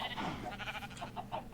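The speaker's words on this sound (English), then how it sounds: "Got some sheep, been breeding." Farm sheep in Minecraft 1.21.10 give a few short bleats in quick succession, fairly close and clear against a soft background.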